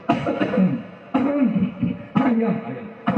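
Three loud, harsh coughing bursts about a second apart, close up, each with a rough throaty tail.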